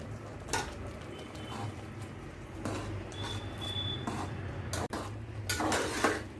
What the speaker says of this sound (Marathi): हे सगळं मिश्रण आता एकत्र करायचं आहे.